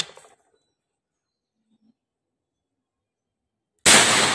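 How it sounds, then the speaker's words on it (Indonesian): A single sharp, loud crack of a Predator 500cc air rifle shot near the end, after a few seconds of near silence. "kita tembakan yang ketiga"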